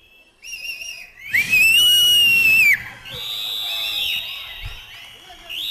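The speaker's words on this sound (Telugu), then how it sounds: "నాకు ఇక్కడ నిలబడితే విజిల్ కొట్టాలని ఉంది" Loud, shrill whistling by a person at an anniversary celebration: one strong sustained note that rises and falls, followed by softer whistle tones, with crowd noise and voices around.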